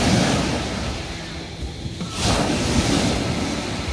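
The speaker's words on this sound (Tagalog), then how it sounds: "Taas ng alon eh." High ocean waves crash and wash at Carles beach in Iloilo, a broad, loud, rushing surf with a dip and then a fresh surge, mixed with gusty wind noise on the microphone.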